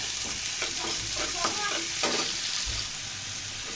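Carrots fry in hot oil with onion in a pan, a close, continuous sizzle broken by a few stirring scrapes.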